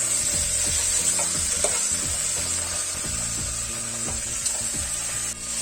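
Gongura chicken is stirred in a frying pan, with a constant loud sizzle under repeated scraping and clacking strokes of the spoon. There is no talking.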